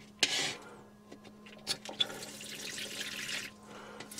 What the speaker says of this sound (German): Und da lassen wir die nächsten 20 Liter durchlaufen.